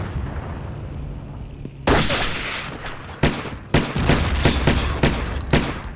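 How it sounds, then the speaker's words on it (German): Gunfire in the World War I shooter Battlefield 1 during a battle at Gazala: a low rumbling din gives way to a burst of loud shots, followed by several sharp, close gunshot cracks over continuous battle noise. "Wer hat auf uns geschossen?"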